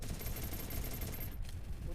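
Dense gunfire from a mobile battle-royale shooter crackles steadily throughout, a continuous rattle of overlapping shots with a brief dip near the end, mixed with a squad's voice chat.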